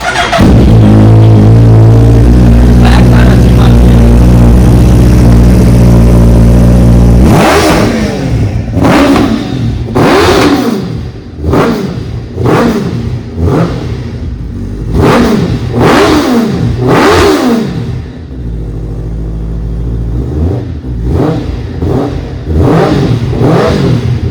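A Suzuki Hayabusa motorcycle with its dB killer removed idles loudly, then is revved hard in a string of sharp, loud throttle blips that rise and fall repeatedly, close up with no talking.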